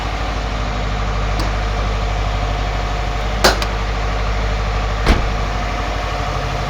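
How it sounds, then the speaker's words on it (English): A steady low engine idle of a Subaru WRX, heard with the bonnet raised, hums continuously, with a couple of brief sharp clicks partway through; no talking. "you can hear more engine sound, can't you?"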